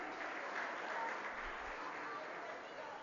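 Parents at a play group annual day clap in a soft, steady wash of applause spread across the room, fairly distant and even throughout, with faint voices beneath.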